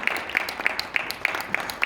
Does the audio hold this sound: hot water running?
no